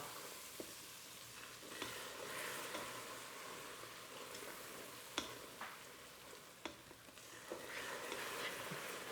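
Caramel for a turtle cheesecake boiling up in a Ninja Foodi, a steady bubbling sizzle with scattered sharp pops and crackles throughout, moderately quiet and with no talking.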